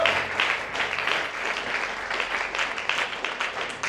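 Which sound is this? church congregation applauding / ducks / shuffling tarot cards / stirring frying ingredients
church congregation applauding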